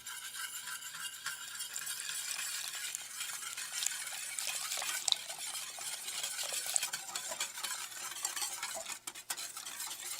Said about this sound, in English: Stir to evenly combine the ingredients and then slowly whisk in the non-dairy milk.